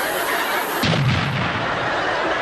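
A booming explosion sound effect follows a bomb joke at a comedy stage show, a single loud blast with a rumbling tail lasting a couple of seconds.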